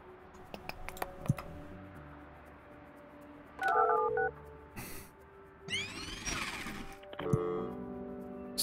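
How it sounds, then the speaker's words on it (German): Telephone dialing tones and a ringing phone in the building-management game Project Highrise, with separate bursts of short beeps and chimes over a steady low game-music bed, no talk. "Telefon."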